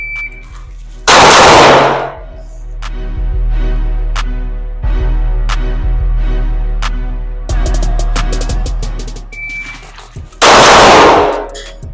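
Loud, close gunshots fired during shot timer practice: a sharp crack near the start and another near the end, with ringing metallic pings from struck steel targets in the quieter stretch between.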